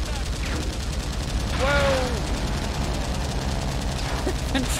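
Gunfire aimed at the player in the 2005 King Kong video game, a loud continuous wash of shots under a noisy battle scene while a man gives a startled shout.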